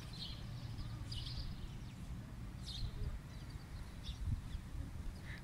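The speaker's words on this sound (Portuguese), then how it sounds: "São os pássaros cantando" Small birds chirp in short, scattered bursts outdoors in Switzerland in late autumn, faint above a steady low rumble of wind and background noise.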